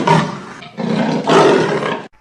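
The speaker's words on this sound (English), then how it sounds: "leopard" A leopard roars in three loud, rasping bursts, each about half a second long, with short gaps between them. The roars come from close by and stand alone, with no voices.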